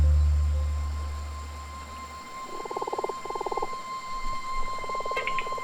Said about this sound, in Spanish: Esta rana de orejas chicas es una sobreviviente que durante el día se oculta entre las hierbas